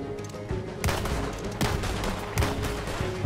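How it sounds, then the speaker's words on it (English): Shotgun blasts in Red Dead Redemption 2, heard as several loud, sharp shots spaced about a second apart over steady background game noise. "Or am I shooting a shotgun?"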